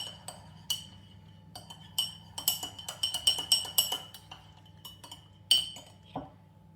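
A spoon clinks and scrapes against a bowl while melted butter is mixed, bright irregular metallic taps that cluster into a quick rhythmic run, close and clear over a low background hum.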